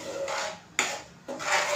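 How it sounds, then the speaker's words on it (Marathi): A cooking pot used for egg curry being rinsed with hot water in a home kitchen: splashing water with a sharp metallic clank from the pot partway through, close and moderately quiet. "मी भांडं धुवून घालते"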